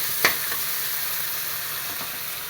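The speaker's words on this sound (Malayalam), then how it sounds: "ഈ കടല അതിൽ വാരിയിട്ട് കൊടുക്കാം ഒന്ന് ഉടച്ചു ഞാൻ കടലുകൊണ്ട് തന്നെ ഒന്ന് നെയ്യിട്ട് വഴക്കിയിട്ട്" Chickpeas sauté in ghee in a pan with a soft, continuous sizzle and crackle. A light clink of a utensil comes near the start.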